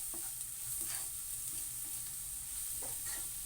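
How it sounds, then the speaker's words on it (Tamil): Spiced vegetable bread upma mixture stirred in a frying pan, a steady sizzle under soft repeated scraping strokes of the spoon, close and even throughout with no voices. "இது எல்லாத்தையும் நல்லா மிக்ஸ் பண்ணிக்கலாம்."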